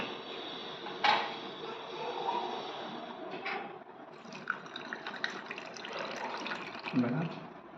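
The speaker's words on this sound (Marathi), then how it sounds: "त्याच्यामध्ये थंड पाणी टाकायचं." Cold water is poured into a raw mango (kairi) sherbet mocktail mix: a splashing, trickling fill with a few sharp clinks of utensils and dishes, and a voice briefly present.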